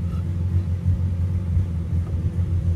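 A Proton Satria's engine idles with a steady low rumble, continuous and fairly loud throughout, with no one speaking.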